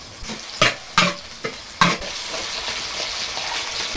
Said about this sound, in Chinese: 来点豆瓣酱，炒出红油。